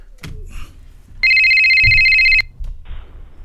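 A telephone rings once in a steady electronic tone for about a second, calling in to a talk show, with faint room sound and brief noises before and after.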